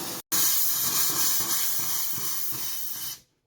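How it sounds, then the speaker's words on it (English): A faucet hisses and sputters loudly as air and hot water spit out in uneven bursts during winterization at a service center, then cuts off abruptly. "we get air coming out of this from both the hot and the cold water side"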